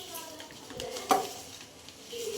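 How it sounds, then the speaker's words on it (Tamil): Oil poured into a hot, dry pan sets off a soft sizzle and light stirring, with a brief sharper clink of metal partway through and a low hiss continuing to the end. "இப்போ நம்ம எண்ணெய் ஊற்றிக்கலாம்."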